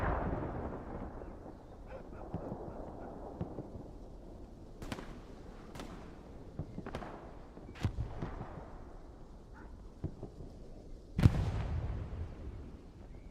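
Distant rocket and shell explosions in Hell Let Loose boom over a low rumbling battlefield background, several sharp blasts spaced a second or two apart, one louder hit near the end.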